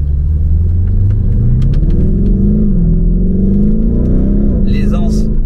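Lamborghini Urus with a full Milltek exhaust accelerating, a loud, steady low engine drone that rises in pitch and continues throughout, with a voice talking over it.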